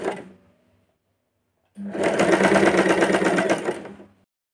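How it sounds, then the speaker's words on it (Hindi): Sewing machine stitching a fall onto a sari runs in a steady, close whirring burst of about two seconds, after a brief faint lead-in sound and a short pause. "हम मशीन में फॉल और साड़ी को इस तरह रख लेंगे। हमारी जो साड़ी है वो नीचे रहेगी और फॉल ऊपर रहेगी। इस तरह धीरे धीरे सिलाई करते जाएंगे।"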